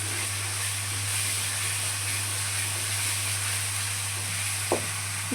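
Spinach thokku ingredients sauté in a pan with a steady, close hiss of sizzling oil throughout, broken by a couple of faint utensil taps near the end.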